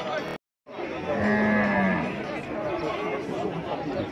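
Cattle lowing among the crowd at a cattle market in Carnaíba, Pernambuco, a drawn-out moo rising under steady chatter and a voice calling out prices and offers nearby.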